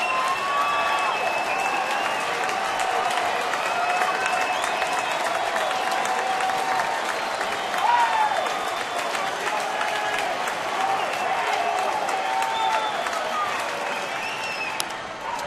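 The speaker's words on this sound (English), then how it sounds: "Crowd's starting to come alive now in a 2-run game, 6-4." Baseball stadium crowd during an Oakland at Detroit game, a steady wash of cheering and applause that swells around the middle and holds loud and dense throughout, with a play-by-play voice talking over it.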